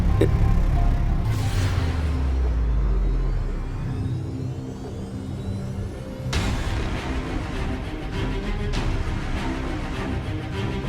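A car engine runs and rises in pitch as the vehicle pulls away, a steady whirring drone that swells again partway through, heard close without talk.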